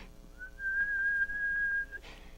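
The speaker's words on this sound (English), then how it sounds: "she heard the faint answering whistles outside" A single sustained whistle at a steady high pitch, held for over a second, sounding moderately distant against a quiet background.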